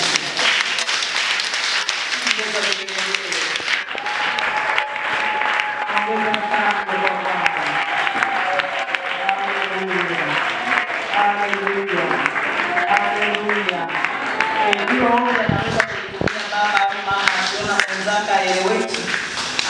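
A church congregation applauds in a sustained wash of clapping while a voice carries on loudly over it.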